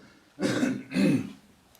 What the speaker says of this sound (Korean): 내가 지금 강의가 들어서 기침을 하는 겁니다